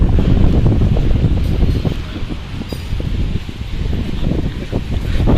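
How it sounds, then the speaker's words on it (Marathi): Strong wind buffets the microphone on a busy Mumbai street near Lalbaug and Parel, a loud, steady roar with gusty low rumble throughout and no voices. "हवा सुटली आहे मस्तपैकी"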